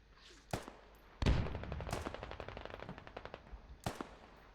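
Gunfire in the video game Squad, with a few single sharp shots and then a quick automatic burst of rapid cracks, fairly loud and close, with no talking.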